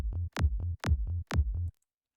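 A tech house bass line built in the Serum synth and sequenced with drums in FL Studio: three punchy kick-and-bass hits repeat in a steady bouncing rhythm, alone and clean, then stop.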